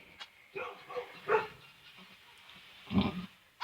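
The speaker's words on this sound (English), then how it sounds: "Stop barking." A dog gives a few short, close barks and yips, spaced irregularly with quiet gaps between them, while a female dog is giving birth to puppies.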